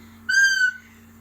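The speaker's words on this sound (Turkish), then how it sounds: "İlk önce bir tane düdük." A single short, shrill whistle blast lasting about half a second, clear and close over a low steady hum.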